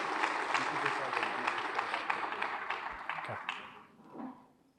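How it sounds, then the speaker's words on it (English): Guests at a firefighters' awards banquet in Edinburg applaud a volunteer firefighter, a steady crowd clapping that fades out, with a voice talking near the end. "how about another round of applause for volunteer firefighter Rolando Rodriguez?"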